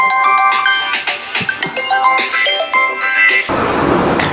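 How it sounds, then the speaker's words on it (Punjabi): A phone ringtone plays a bright electronic melody loudly and up close for a few seconds, then cuts off into soft hiss. "ਫੋਨ ਆ ਗਿਆ ਕਿਸੇ ਦਾ"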